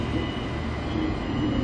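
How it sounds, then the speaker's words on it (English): A commuter train in Brisbane rumbles steadily and loudly with a continuous low roar and rail noise, close by and without any voices. "So, catch a train from here"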